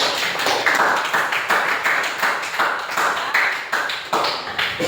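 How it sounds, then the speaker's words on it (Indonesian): Schoolchildren in a classroom clap for their classmates in a steady, rhythmic pattern of sharp, fairly loud hand claps that repeats evenly for several seconds, with no talking. "Beri tepuk tangan untuk teman-teman."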